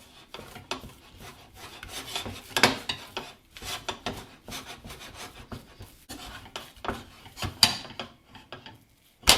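Flour is worked into a smooth paste in a pan over low heat for choux pastry, giving irregular scraping and rubbing strokes of a spoon against the pan, close and uneven in rhythm.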